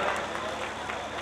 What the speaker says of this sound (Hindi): ताली क्यों बजा रहे?